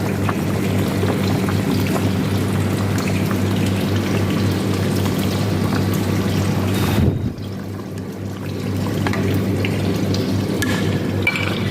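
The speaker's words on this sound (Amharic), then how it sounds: "እዚህ ጋር ደግሞ ውሃ እየፈላ ነው።" Water boiling in a pot while Dubai-style meat salona cooks, a steady bubbling, hissing wash close by that briefly drops and dulls for a moment before resuming, with no talk over it.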